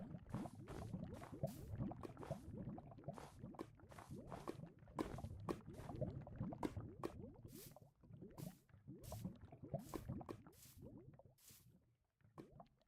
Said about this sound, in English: I hear lava.